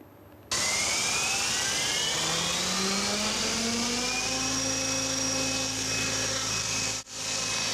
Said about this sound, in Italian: elicotteri radiocomandati a motore elettrico